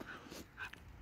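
A female dog gives a couple of quick, faint yips and whimpery barks, brief and close over low room noise.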